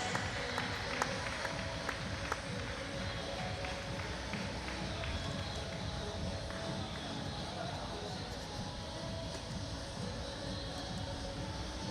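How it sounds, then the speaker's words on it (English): An audience applauds coaches, volunteers, referees and officials at the British Para-Swimming International Meet finals, a steady, reverberant wash of clapping and crowd noise in an indoor pool hall that lasts throughout, with voices mixed in. "can we have a round of applause for all of the coaches, the volunteers, the referees, the officials"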